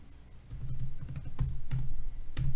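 Keys typed on a computer keyboard during setup of a Dell G15 macro, with short bursts of clicks and a steady low hum underneath, close and moderately loud, no talking.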